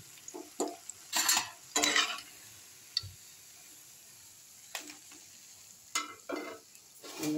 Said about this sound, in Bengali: দেখুন ভাজা হচ্ছে, এটা একটা একটা করে একটা ভাজা হচ্ছে।